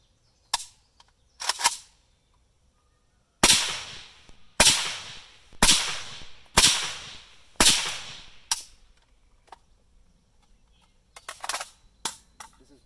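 Suppressed AK47 firing Brown Bear 196 grain subsonic 7.62x39 rounds: a series of sharp, fairly loud cracks, first a few lighter pops, then five evenly spaced strong shots, then a quicker cluster near the end, each with a short ringing tail.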